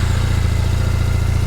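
Triumph Bonneville motorcycle with its standard road-legal exhaust refitted, ticking over at idle nearby, a steady low even throb with a smooth regular pulse and no revving.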